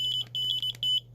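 A homemade remote control smoke detector gives rapid high-pitched electronic beeps in short bursts with brief gaps, loud and close over a low steady hum.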